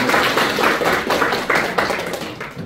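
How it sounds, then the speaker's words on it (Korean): A church congregation applauds in welcome of a young member during a Palm Sunday morning worship service. Loud, steady clapping fills the room and tapers slightly toward the end. "환영의 박수 한번 드리겠습니다"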